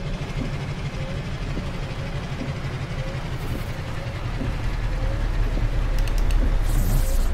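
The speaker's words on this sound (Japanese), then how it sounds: "マフラーの音がうるさすぎたからかな。" Loud truck muffler exhaust in Euro Truck Simulator 2, a deep, steady rumbling idle with low throbbing pulses that grows slightly louder toward the end.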